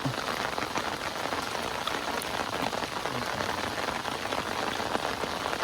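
Rain falls steadily outdoors beside a riverbank fishing spot, a dense, even patter of drops hissing on surfaces, constant and moderately quiet, with no one talking.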